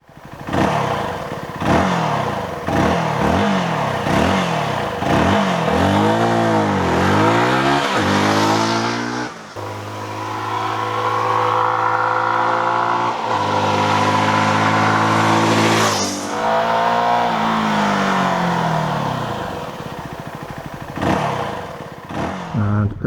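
A Euro 5 CFMOTO 300NK motorcycle engine revs loudly and close, its pitch rising and falling through repeated throttle blips before it pulls away and climbs through the gears, with a steady drone and further rises as it rides off.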